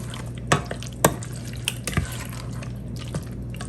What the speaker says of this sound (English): So you just want to get your pasta nice and hot and bubbling up for a few minutes.